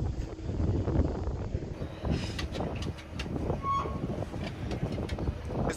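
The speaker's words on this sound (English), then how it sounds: "Wind's pushing us, I guess." Low, rumbling wind buffets the microphone over the steady drone of a moving hire boat, with occasional thumps and knocks.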